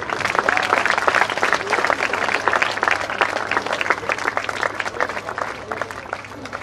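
Applause fills an annual prize distribution at Jagruti Vidhyalay and Sanjivani Prathmik Vidhyalay school in Banwadi, Karad: a crowd of children and guests clapping densely and steadily throughout, loud and close, tapering slightly at the end.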